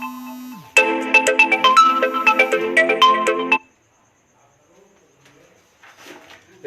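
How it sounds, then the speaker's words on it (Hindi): A phone's ringtone plays a bright, rapid melodic run of electronic notes for about three seconds and then stops. Faint rustling follows in an otherwise quiet room during a maths lesson. "फोन आ रहा है"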